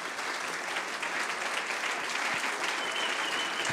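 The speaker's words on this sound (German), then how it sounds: "Dein Applaus." Steady, full applause from an audience at a film talk, a dense, even wash of many clapping hands at constant loudness from start to finish.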